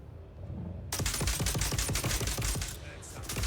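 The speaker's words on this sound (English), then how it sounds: "the player tries to be as effective as possible and shoots at the head" Rapid automatic gunfire in the Dune: Awakening video game, a dense burst of shots starting abruptly after a short lull and hammering on steadily, loud and close.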